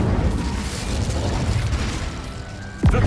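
Incendio fire spell in the Hogwarts Legacy video game, a loud roaring whoosh of fire sustained for a few seconds before a sharp swooping sound closes it out.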